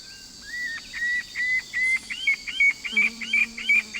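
Brown-banded puffbird call from a catalogued field recording: a rapid series of about ten clear, rising whistled notes, repeated steadily and growing slightly louder, with faint insect hiss in the background and a brief low hum near the end.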